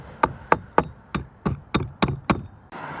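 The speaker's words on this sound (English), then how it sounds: "So I'm just hammering these nails over." Seven evenly spaced hammer strikes on nails outdoors on a windy day while repairing wind damage, sharp close metallic knocks each with a short ringing decay.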